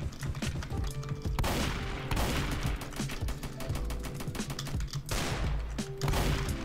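Gunfire in the Roblox shooter Strucid: dense, rapid bursts of shots crackle almost nonstop, with a few louder pops and game sounds layered in.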